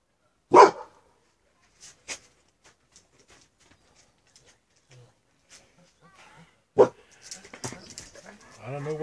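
A large dog gives two sharp, loud barks several seconds apart, with faint whimpers and snuffling between them and a person talking near the end.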